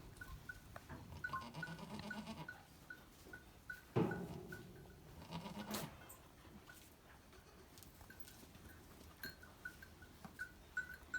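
Goats bleat faintly on a farm in Köreke village, Gördes, with a short, louder call partway through, over quiet rustling and outdoor background.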